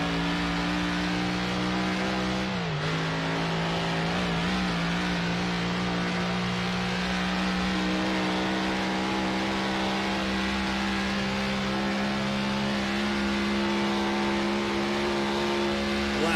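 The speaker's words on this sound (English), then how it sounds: "Get on that throttle hard onto the straightaway, accelerate away." A 1930s prewar race car accelerating hard onto a straight in Assetto Corsa, a continuous loud engine drone with one brief gear-change dip early on, rising and holding steady for a long stretch.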